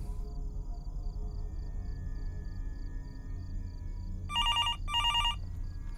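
Two short bursts of an electronic telephone bell ring near the end, over a low steady rumble of ambient game sound, in the horror video game Fears to Fathom: Norwood Hitchhike.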